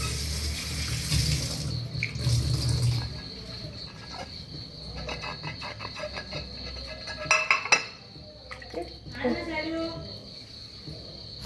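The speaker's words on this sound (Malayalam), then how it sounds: "ഇത് ഞാൻ സോപ്പിട്ട് കഴുകി പിന്നെ നമുക്ക് എടുക്കാം" Dishes being washed with soap at a kitchen sink under a running tap, water hissing steadily with clinks of plates and a spoon, and a voice talking over it at times.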